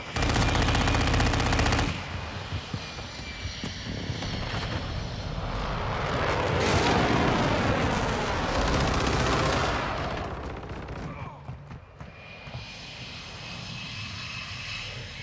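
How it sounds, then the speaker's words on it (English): Aircraft roar and rapid machine-gun fire during a friendly airstrike in Modern Warfare 2 gameplay, loud and continuous, with a heavy engine swell building through the middle before the barrage thins out. "Friendly airstrike in the AO."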